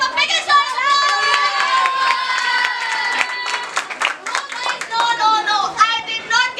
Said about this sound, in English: All of you give a big shout of applause.